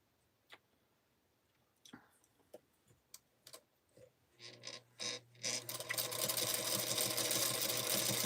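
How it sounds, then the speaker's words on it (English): A sewing machine quilting a sweetheart-block pillow: a few isolated clicks and short bursts build into a steady, close, loud whirring run of rapid stitching. "And just doing the quick quilting. Nothing fancy."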